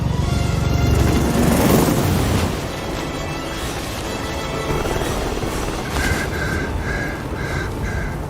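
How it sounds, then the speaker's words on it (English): A helicopter lifts off in the stealth video game Hitman 3, heard as a loud, broad rotor-and-engine roar that eases into a steady drone, with high tonal whines pulsing in later. "Alexa Carlisle's helicopter just took off."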